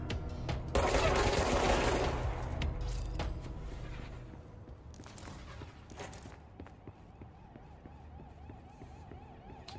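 Enemy gunfire in the video game Control: a loud, dense burst of rapid shots in the first few seconds, then scattered sharper cracks and impacts over a lower, busier game soundscape.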